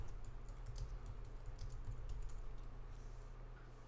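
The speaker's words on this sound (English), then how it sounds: "You can double click on that and just start typing." Rapid, irregular clatter of keys on a computer keyboard, steady and close, over a low background hum with no voices.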